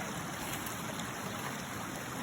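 A normally tiny stream swollen by torrential rain rushes steadily after a storm, a faint continuous wash of water with no voices.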